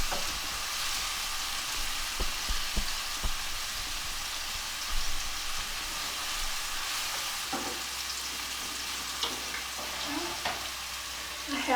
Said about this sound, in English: I have my mushrooms sauteed now